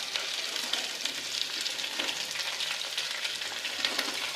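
Ridge gourd pieces hit a hot pan of oil with dried red chillies and fry in a steady, bright sizzle, with light stirring crackles and no pauses.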